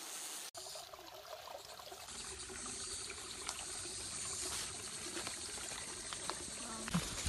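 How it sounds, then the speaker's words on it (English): Water trickling and rushing in a stream near waterfalls in a hidden garden on Lantau, a steady soft outdoor flow throughout, moderately distant with small splashes. "There's a stream here."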